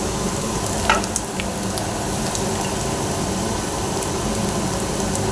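Onion, ginger and garlic frying in oil, a steady dense crackling sizzle with a few brief stirring clinks near the start and no voices.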